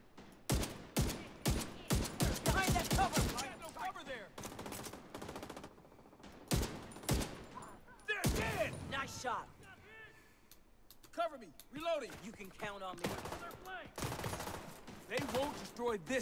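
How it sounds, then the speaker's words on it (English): Video game gunfire in a looting and technology game, with loud sharp shots and rapid volleys early on and sporadic shots later, heard under frequent talking. "Get out of the way so I can shoot them."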